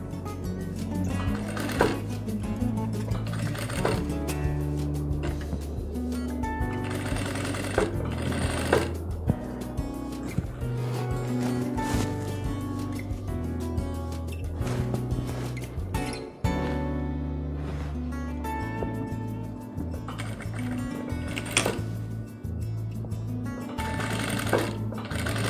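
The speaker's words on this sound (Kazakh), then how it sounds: "Енді сетканы үстіңгі бөлшекке қосып бірге біріктіріп тігіп шығамыз." A sewing machine stitches tulle mesh onto the upper piece of a skirt in long runs of rapid, steady needle chatter that pause briefly and restart, close and clear over soft background music.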